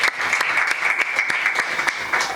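A church congregation claps in congratulation of a wedding, a steady crowd applause with sharp individual claps standing out, fairly loud and close throughout.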